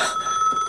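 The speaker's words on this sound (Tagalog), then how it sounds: "Ti telepono." A telephone rings in a short, steady electronic trill, fairly loud and close, with no talk over it, in a domestic or office setting from a Filipino television drama.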